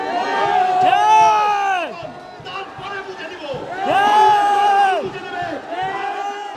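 Protesting students chant slogans in rhythmic unison, loud and close, two long call-like phrases with a shorter burst between, voices rising and falling together in a crowd.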